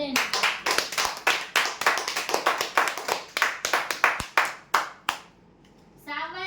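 Clapping at a prize-draw winner announcement sounds as a run of quick, loud, close hand claps that stops abruptly, followed by a short quiet pause and the start of a voice.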